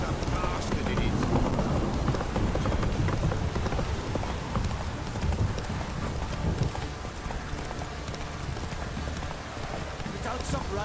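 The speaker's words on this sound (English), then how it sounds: "If it don't stop raining, my arse will rot off." Steady rain patters throughout while horse hooves clop along in a quick rhythm, with a voice faintly underneath, in The Witcher 3 video game.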